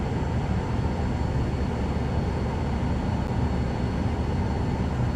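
Steady, loud broadband roar of a Cirrus Vision Jet G2 running in Microsoft Flight Simulator 2024, a continuous jet engine whoosh and rumble that holds level throughout.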